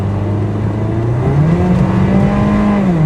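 A BMW E36 318i at full throttle, its engine revving up toward 6500 RPM with a steadily rising pitch, loud and close as if heard from inside the car on a highway, with no talking.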